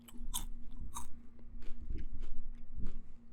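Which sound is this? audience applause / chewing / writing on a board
chewing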